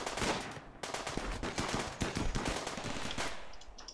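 Dense, rapid automatic gunfire rattles continuously in close bursts during a firefight in RimWorld, with overlapping shots and no pauses. No voices are heard.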